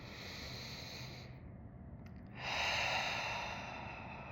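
Slow breathing during a guided meditation, a soft airy breath followed by a brief pause and then a fuller, louder exhale, close and alone without talk.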